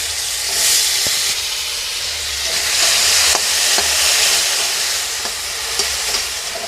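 Small cubed potatoes coated with salt and turmeric fry in hot mustard oil in a wok, giving a loud, continuous broadband sizzle with occasional clicks from stirring, heard close with no voices.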